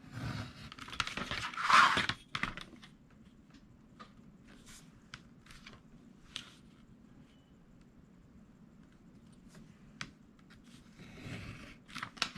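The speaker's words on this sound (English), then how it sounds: "So I am just going inside of my trace marks and trimming." Scissors trim along traced marks on a Dollar Tree craft piece, with a burst of crinkly cutting and rustling early on, then faint scattered snips and handling sounds close by.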